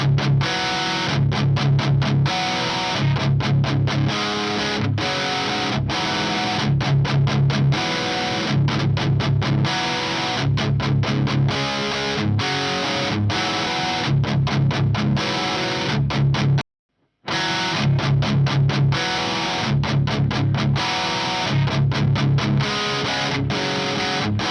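Heavily distorted electric guitar plays a tight, chugging palm-muted riff through an amp sim, a Black Winter pickup compared against a Bare Knuckle Polymath, loud and repeating in short bursts with one brief silent gap.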